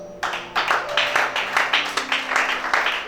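A church congregation bursts into applause, dense and loud clapping that starts abruptly and continues in rolling waves, with a faint voice audible underneath.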